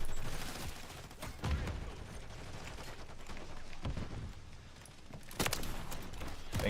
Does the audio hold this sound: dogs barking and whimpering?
no